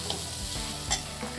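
Tawa pulao masala with red chilli powder is stirred and fried in a pan, a steady close sizzle with scraping strokes from the stirring.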